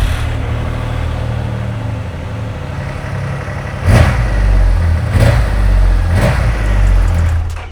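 A 2,500 cc production motorcycle engine idles with a deep rumble, then revs sharply three times in quick succession, loud and close.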